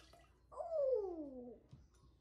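Water pours into a measuring cup in one smooth, rising stream lasting about a second, close and fairly soft, followed by quiet.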